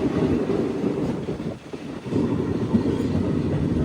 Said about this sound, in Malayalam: ഇനിയിപ്പോൾ നമ്മുടെ വണ്ടി ഇപ്പോൾ ഇവിടെ നിന്ന് എടുക്കും